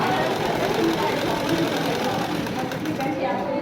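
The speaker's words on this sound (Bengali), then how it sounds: "রাউন্ড পলিটা সেলাই হয়ে যাবে" Sewing machine running steadily while stitching the round fold on a school trouser, a continuous close, fairly loud mechanical whirr with a knocking undertone; the machine runs short of oil.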